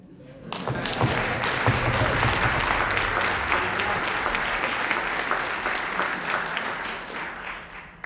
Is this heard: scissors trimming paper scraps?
no